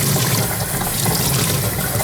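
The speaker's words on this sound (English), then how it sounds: "Basically get down this filter sponge. Do the same thing, rinse it out." Running water gushes steadily over an aquarium filter sponge as it is rinsed out, a close, continuous splashing wash from start to finish with no voices.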